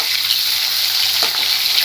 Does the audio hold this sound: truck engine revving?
no